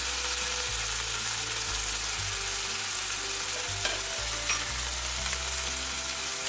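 Spices with salt, turmeric and red chili powder sizzle and fry steadily in a pan while being stirred, a dense continuous crackle with no talking.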